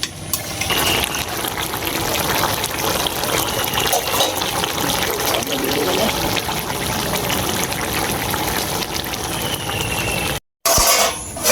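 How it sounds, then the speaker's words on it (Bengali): Bottle gourd cooks down in a pan for a fish curry, releasing its water with a continuous close bubbling, gurgling simmer and occasional clinks, broken by a brief silent gap near the end. "দেশি লাউ থেকে জল উঠে।"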